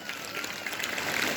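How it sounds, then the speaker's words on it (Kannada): An audience at a village temple event claps together, a dense wash of applause that swells slightly toward the end. "ಜೋರಾದ ಚಪ್ಪಾಳೆ."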